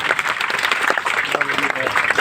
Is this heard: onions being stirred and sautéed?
no